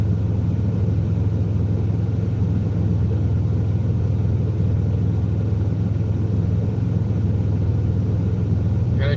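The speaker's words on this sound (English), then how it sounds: "I think my fan clutch is stuck on, guys. I'm pretty sure my fan constantly spins." Van engine running with a stuck-on fan clutch keeping the fan constantly spinning, a steady, unbroken low rumble and whir at constant level throughout, with no revving or pauses.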